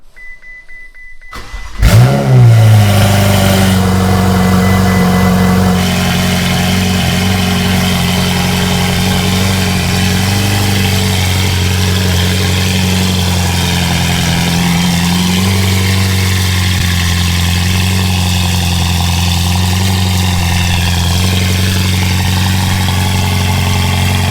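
A Ferrari 488 fitted with a Kline Inconel exhaust starts up with a loud blip, then settles into a deep, steady idle that stays loud and close throughout with slight variations in tone.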